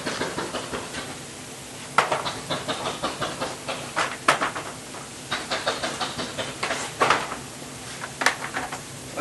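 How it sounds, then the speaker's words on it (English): An outdoor lawn sprinkler system sprays water, producing rhythmic hissing bursts in a steady ticking pattern, fairly close and continuous over several seconds. "my sprinkling system just went off, so hopefully that doesn't make too much noise"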